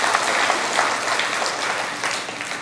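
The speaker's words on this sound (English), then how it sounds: "Let's give yourself an applause." A TEDx audience breaks into applause, a loud, dense patter of many hands clapping together, sustained throughout with slight swells and a small drop at the end.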